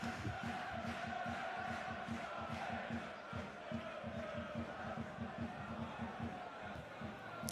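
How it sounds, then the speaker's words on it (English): Football crowd at a Coventry City v Wrexham promotion battle, a dense, continuous roar with a rhythmic low pulsing like chanting or drumming running throughout, fairly distant and steady. "Sounds like the crowd's up for this one in this party."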